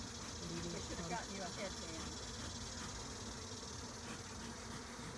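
Honeybees swarm around a person forming a bee beard, a continuous dense buzzing hum close to the microphone with faint hiss, steady and unbroken.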